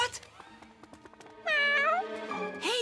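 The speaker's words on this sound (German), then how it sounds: "du Streuner. Wieso miaust du?" A cartoon stray cat gives a long, drawn-out meow, loud and close, followed by a shorter second mew, with light clicks and effects before it in an animated scene.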